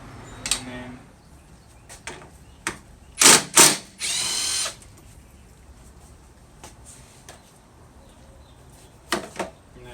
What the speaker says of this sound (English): there's a 10mm bolt here that we'll go ahead and remove